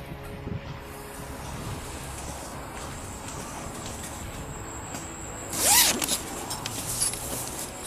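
A winter jacket's zipper is pulled in one quick, close, raspy zip near the end, standing out against a low, steady outdoor background hum.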